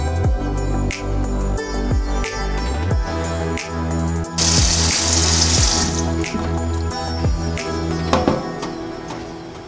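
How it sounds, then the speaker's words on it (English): Running tap water splashes steadily over petha (ash gourd) pieces in a kitchen sink while they are washed and rubbed, with a brief louder gush midway and intermittent clinks, no voices. "So we're gonna wash our petha thoroughly."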